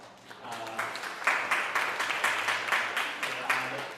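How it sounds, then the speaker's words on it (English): Crowd at a community training event applauding, with a dense run of clapping that swells after the first second and continues steadily, while a voice speaks faintly underneath. "Round of applause"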